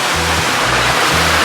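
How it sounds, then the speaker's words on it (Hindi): A waterfall near a secluded hill village in Tamil Nadu gives a steady, loud, broad rushing roar, with a low intermittent hum underneath. "This is the waterfall"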